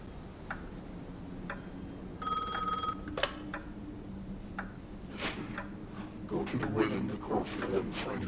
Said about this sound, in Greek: Μας ξαναβαράει το τηλέφωνο